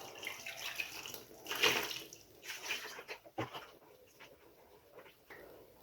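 Water being poured into Ethiopian injera batter, a soft sloshing, splashing pour that swells and fades over several seconds, close and fairly quiet, with no talking.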